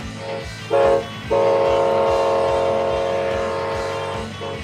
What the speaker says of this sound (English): you just hear the sounds of the freight train clickety-clack down the track